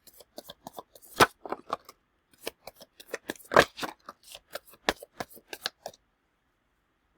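A deck of rune oracle cards is shuffled by hand, giving quick, close, crisp riffling and slapping bursts in an irregular rhythm before the sound stops.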